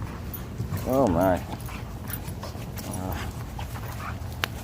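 Puppies play roughly, giving a high, wavering whimper followed by softer whines and panting, close by, while a person talks now and then.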